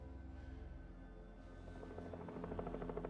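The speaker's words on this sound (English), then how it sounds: "Long before dawn, news helicopters hovered over the state prison" News helicopters hover over a state prison before dawn, a faint, steady rotor chop that grows slightly louder toward the end.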